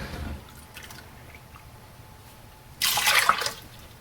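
A cup of milk is poured for a crepe batter, a brief splashing gush of liquid lasting under a second near the end after a mostly quiet stretch.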